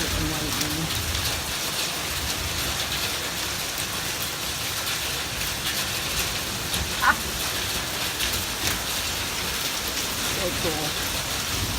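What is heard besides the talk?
hail and thunderstorm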